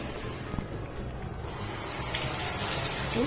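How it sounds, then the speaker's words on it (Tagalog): Water runs hard from the tap of a sink in a bathroom, a steady broadband rush that swells louder and fuller after the first second and a half, with no talking over it. "Lakas pa ng tubig."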